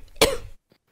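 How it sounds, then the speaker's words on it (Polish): A single harsh cough rings out close and loud, followed by a faint breath. "Za bardzo kaszlę."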